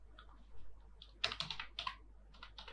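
Quick bursts of typing on a computer keyboard on a Windows 10 PC, close clicky keystrokes in short clusters with brief pauses between them.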